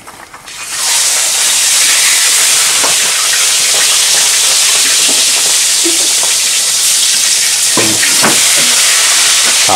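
Small shrimp sizzle loudly as they cook over a fire, a dense, steady frying hiss that swells in within the first second and holds without pause, with occasional faint knocks and stirring.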